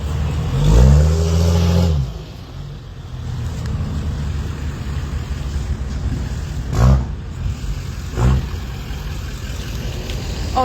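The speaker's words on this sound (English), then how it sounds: "I want to let the big trucks through." A big truck driving through a farmers protest in Edmonton, a loud steady engine rumble close by with a heavy revving swell near the start and a couple of brief louder bursts later.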